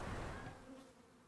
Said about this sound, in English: Oh, we have a swarm.